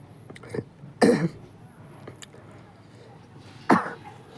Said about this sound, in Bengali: একটু কাশি উঠে গেল আর কি